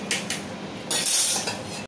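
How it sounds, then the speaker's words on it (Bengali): A metal spoon stirs cloves and cinnamon in a cooking pot while making soyabean pulao, giving a few light clinks and scrapes against the metal, fairly faint and close, with no talk. "দিয়ে এবার ভালো করে নাড়িয়ে নেব"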